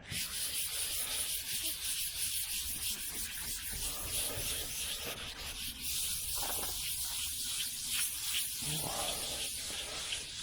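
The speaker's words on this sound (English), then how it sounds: "I'm not going to sand to the very edge. I'm just going to go over the overspray." Steady hand-sanding scrubs over the painted body of a 1969 Chevelle Malibu to knock down overspray, a continuous raspy hissing rub with rhythmic back-and-forth strokes, fairly close and quiet, no talk.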